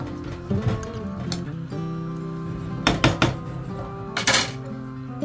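A spoon scrapes and clanks against a pan as food seasoned with soy sauce and pepper is stirred, with several sharp metallic knocks over a steady background hum.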